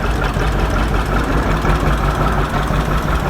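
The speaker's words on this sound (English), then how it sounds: "It's a 1959 630 John Deere owned by the Grass." A 1959 John Deere 630 antique tractor rolls by in a parade, its engine running loud and close in a steady, even rumble with a knocking, idling character throughout, with no voices over it.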